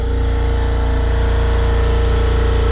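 A Tech West air compressor rattles loudly and continuously at close range while running, a dense mechanical drone with rapid periodic clatter from loose parts and no pauses.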